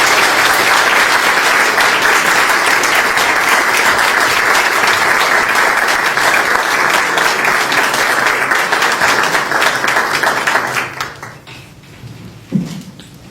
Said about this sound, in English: we applaud her tonight as our recipient